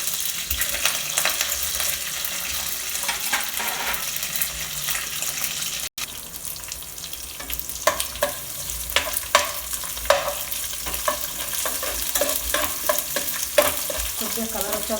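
Onions fry in a pan with mustard seeds and curry leaves, giving a steady close sizzle while a spoon stirs and scrapes in frequent clinking strokes, with no talking.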